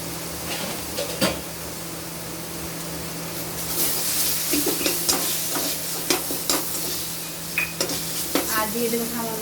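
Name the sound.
sautéing chicken with tomato ketchup and spices in a pan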